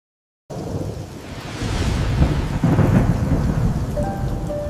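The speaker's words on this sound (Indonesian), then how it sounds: "Yah, hujan." Steady broadband rain hiss with low rumbling thunder building in the middle, loud and continuous outdoors, with no talk.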